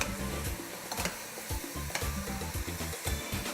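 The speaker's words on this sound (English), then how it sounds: "So let's go ahead and stir these into here." Chicken pieces stirred into a pot of Jamaican curry, with a steady sizzle and rhythmic scraping strokes of a utensil repeating about every half second, close and alone.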